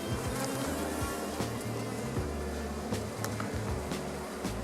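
Honeybees swarming around an opened hive during frame handling, a dense continuous buzzing close by with wing-beat whines rising and falling, steady throughout.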